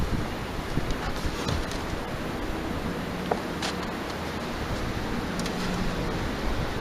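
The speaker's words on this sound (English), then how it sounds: "we got some wind coming up too" Wind rising outdoors, a steady broad rushing hiss with gusts buffeting the microphone, continuous and fairly loud throughout.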